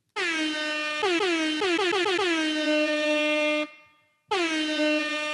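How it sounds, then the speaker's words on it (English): Air horn effect fired from a pad on a RØDECaster Duo podcast console: a loud, close blaring blast, then a rapid burst of stuttering retriggered honks that settles into one held tone, a short gap, and one more blast. "Next we got air horn."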